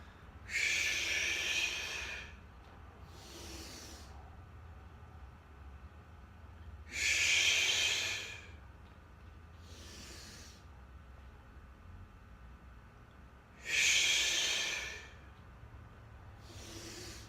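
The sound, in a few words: heavy breathing during exercise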